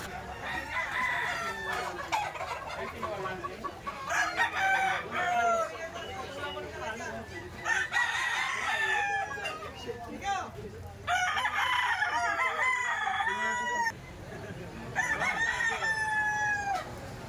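Boston bloodline roosters crowing repeatedly at close range, several long cock-a-doodle-doo calls spaced a few seconds apart amid clucking, with men chatting in the background.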